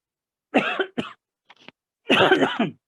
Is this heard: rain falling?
no